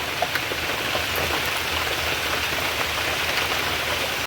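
Steady rain falls on a street surface in Bengal, a dense, even hiss of drops that holds without a break from start to finish, fairly close and with no voices.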